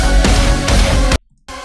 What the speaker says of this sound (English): I found this lush synth that really helped